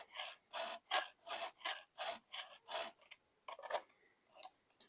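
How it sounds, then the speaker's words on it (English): A file rasps against a chainsaw chain in quick, regular sharpening strokes, about a dozen short scrapes close by with a brief pause partway through. "We're sharpening the saw."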